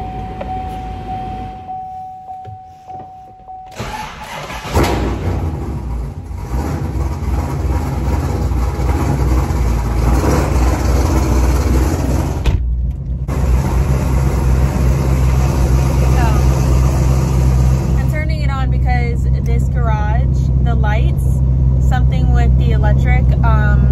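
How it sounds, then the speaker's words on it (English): A car with an MSD 2-step ignition idles and rumbles heavily while being moved to another garage, a loud low engine drone under a person talking, with a sharper rev toward the end. "So that's why I'm moving my car."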